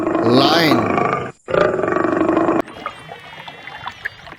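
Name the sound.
lion roaring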